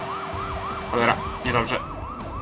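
A police car siren in the video game Sleeping Dogs wails in a steady rising-and-falling cycle, loud and close, while someone talks briefly over it.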